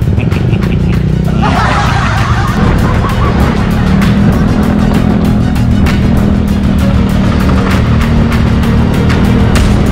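Motorcycles ride fast nearby, a loud continuous engine drone that rises and sustains over several seconds, with wind noise and faint voices of people talking beneath it.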